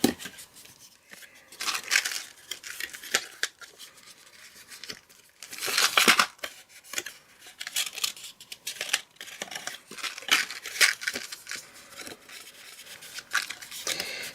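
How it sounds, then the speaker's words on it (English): Scissors snip and trim a piece of card for a small treat box, giving a series of close, crisp cutting crunches and papery rustles at an uneven pace, with no talk. "So what I'll do is just snip off a bit here so it won't show."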